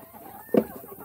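A single short cluck from a rooster, brief and fairly close, standing out against a quiet background.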